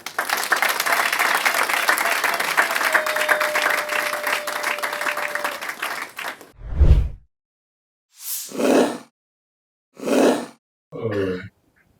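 Audience applause at a solemn investiture ceremony for a provincial council of midwives in Kinshasa: steady dense clapping fills the first six seconds, then breaks into several short separate bursts of sound with gaps of silence between.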